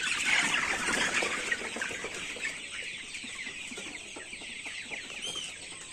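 Sonali chickens on a poultry farm holding about a thousand birds, a steady mass of overlapping clucks and chatter filling the shed, with no one speaking.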